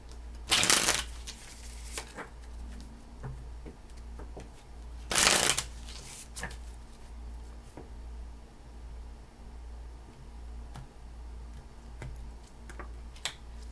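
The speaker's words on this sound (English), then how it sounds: "3 more shuffles." A deck of tarot cards being shuffled, with two loud, brief riffling bursts near the start and middle and soft card handling and faint ticks between them, up close in a quiet room.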